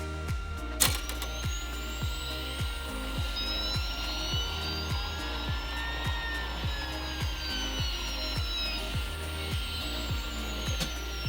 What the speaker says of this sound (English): the printer is going to load the material to the extruder